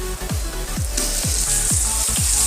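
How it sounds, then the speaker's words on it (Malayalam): Ginger garlic paste for chicken biryani sizzles in a pan, a steady close frying hiss broken by regular stirring scrapes about twice a second, with no talk. "ഇനി നമുക്ക് ഇഞ്ചി വെളുത്തുള്ളിയൊക്കെ ഒന്ന് പച്ചമണം പോകണ വരെ നന്നായിട്ട് വഴറ്റിയെടുക്കാം."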